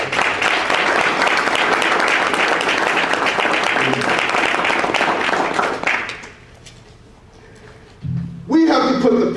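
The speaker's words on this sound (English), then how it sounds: "I want y'all to give them a hand" A crowd at a tribute event for a late mayor claps in loud, sustained applause for about six seconds before it dies away, after which a voice begins speaking.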